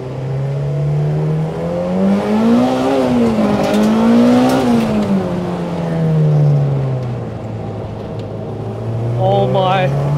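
A modified Honda Civic EG with a K20 engine swap, track-stiff, drives hard; a loud, sustained engine drone rises and falls with revs through gear changes, heard from inside the car, with occasional voices over it.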